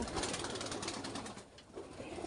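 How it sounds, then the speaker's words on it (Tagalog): A pigeon coos softly near a nest with eggs, low repeated coos over a steady background hiss, with no talking. "Kalapati oh."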